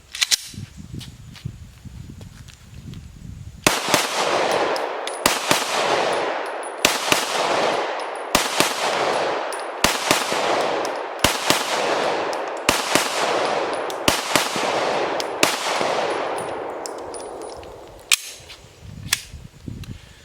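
A Lipsey's Glock P80 retro pistol, a version of the Glock 17, fires about a dozen sharp, loud shots at an even, deliberate pace, each with a short ringing tail, no talking over them.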